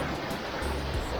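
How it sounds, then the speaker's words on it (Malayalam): Thommankuthu waterfall roaring as a steady, dense wash of falling water, close and continuous throughout with no voices. "വെള്ളച്ചാട്ടം ഉണ്ട്. ഞാൻ നിങ്ങൾക്ക് ജസ്റ്റ് ഒന്ന് കാണിച്ചു തരാം."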